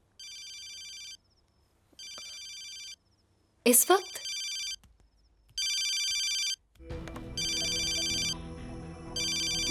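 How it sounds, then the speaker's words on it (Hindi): A telephone rings in regular repeated bursts, interrupted briefly by a voice speaking, then keeps ringing over a low rumbling background. "किसका फोन है"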